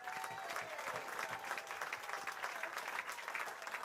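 Studio applause from a small group during a baseball video-game podcast, steady dense clapping lasting several seconds at moderate level with no clear voices over it.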